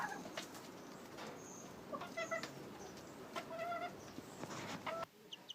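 Small chicks on a farm peep in short, high, faint calls, scattered in quick bursts over a quiet background with no talking.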